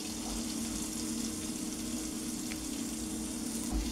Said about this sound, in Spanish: Lo primero que vamos a hacer es saltear las verduras. Iniciamos con la cebolla.